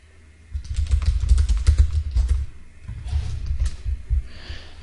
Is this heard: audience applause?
no